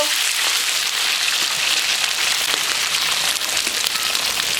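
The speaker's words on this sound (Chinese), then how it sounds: "放在油里面煎一煎，煎好了就不会坏了。" Spoiled eggs frying in hot oil in a pan, a steady dense sizzle with fine crackles that stays even and close throughout, with no voice over it.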